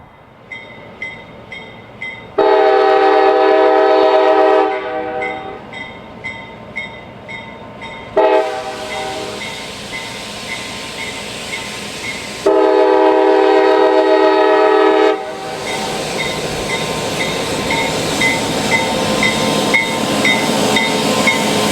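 CSX freight train Y126 on an urban last-mile branch line sounds its horn in several loud sustained blasts separated by pauses, with rumbling rail noise continuing beneath and after.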